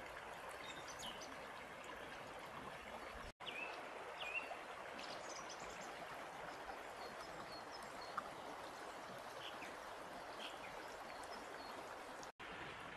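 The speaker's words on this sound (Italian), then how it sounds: "L'unico rumore che si sente è il rumore degli uccellini che cinguettano e dell'acqua che scorre." A mountain stream flows steadily near Misurina in the Dolomites, a continuous close wash of running water, with small birds chirping faintly and intermittently above it.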